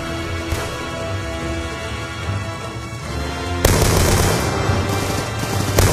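Heavy gunfire in a Call of Duty: Black Ops 2 battle, with dense rattling automatic bursts and booming shots throughout that grow louder and harsher partway through, with no talk.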